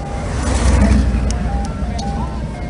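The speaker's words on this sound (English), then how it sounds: "Good humor, ice cream man is here." Good Humor ice cream truck at a classic car cruise event, its thin melodic chime tune playing over nearby engine rumble and crowd noise, with people talking close by.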